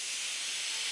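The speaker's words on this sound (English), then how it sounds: "You're going to hear it steam." A clothes iron pressed onto hemming tape lets out a loud, steady steam hiss that holds unbroken for the whole second.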